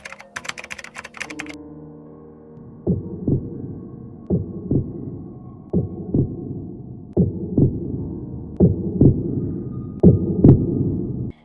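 A heartbeat sound effect from a horror animation thumps at an even, slow pace, about a dozen beats in a row. It follows a short burst of clattering noise and is heard over a low hum.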